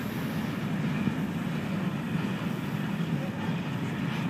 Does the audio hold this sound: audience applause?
no